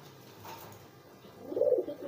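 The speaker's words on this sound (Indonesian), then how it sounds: "ini merpati yang saya giringkan juga nih tuh" Domestic pigeons kept for breeding give a low, rounded coo that swells near the end, audible over a soft background hum with no talking.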